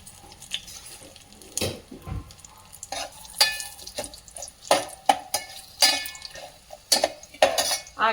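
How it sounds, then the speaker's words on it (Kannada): Urad dal, cumin, mustard seeds and dried red chillies fry in a pan for a dry red chilli chutney, with irregular sizzling crackles and spoon scrapes growing busier and louder over the span, no talking. "ಉದ್ದಿನ ಬೇಳೆ ನೋಡಿ, ಸ್ವಲ್ಪ ಜೀರಿಗೆ, ಹಾಗೆ ಸ್ವಲ್ಪ ಸಾಸಿವೆ, ಹಾಗೆ ಒಣಮೆಣಸಿನ್ಕಾಯಿ ಹಾಕಬೇಕು."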